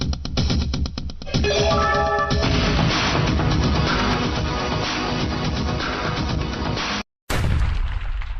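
A loud explosion as a bullet strikes petrol in a dramatized audio story, heard as a long, dense crashing roar with clattering debris, then a short gap and a final sharp burst.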